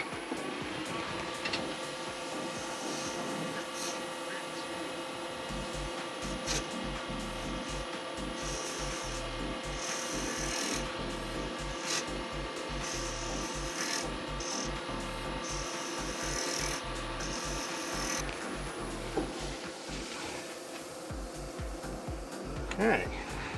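A lathe spins an apple firewood bowl while a turning tool cleans up its centre, giving a steady motor whine with scraping cuts that come and go over the constant hum.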